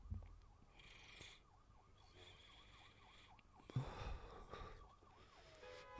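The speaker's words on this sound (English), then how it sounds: "Here's the ambulance." A wailing ambulance siren cycles up and down at a distance, very faint beneath low background noise and a few breathy sounds.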